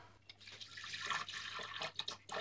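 Water poured into a Thermomix mixing bowl over frozen yeast, a faint, irregular trickle and splash at close range, quiet throughout.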